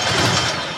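A C5 Corvette engine cranks and catches after its starter relay is jumped. It makes a brief, loud, steady mechanical churn up close.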